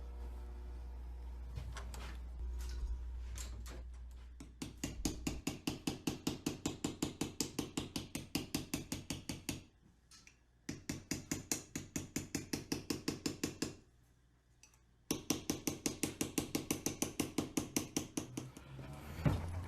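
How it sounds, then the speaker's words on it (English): Sheet steel is hammered into the long pointed tip of a sword scabbard, rapid, evenly spaced metallic blows close by, arriving in several long runs broken by short pauses. "start to bend the steel that I cut out to be this long point at the end of the scabbard"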